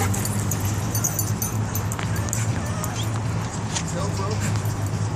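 A dog at a dog park in Dallas yips and whimpers amid continuous outdoor background noise, with people talking nearby throughout.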